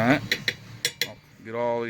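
A metal tool scrapes and taps the side of a pot of molten lead, making several sharp metallic clinks followed by a longer ringing scrape, close and clear.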